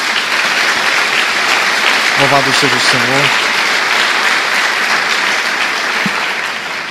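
Congregation applauding in a church service, a steady dense wash of clapping throughout with a brief spoken phrase rising over it near the start.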